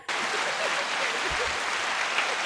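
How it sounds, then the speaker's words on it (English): A small group claps together at a lively indoor gathering, steady and dense for a couple of seconds. "Let's hand clap for Chris"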